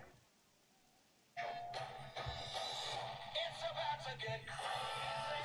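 Rain hisses down across a baseball field in MLB 18, starting abruptly after near silence and continuing as a bright, steady patter with scattered crowd-like noise.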